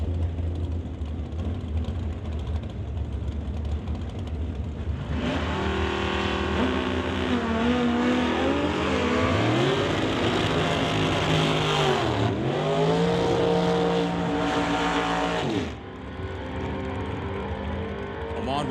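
A drag race test run between a motorbike and a Malibu car: engines rumble at idle, then a loud rising roar of acceleration with revs climbing, a gear-change dip and renewed pull, before easing off.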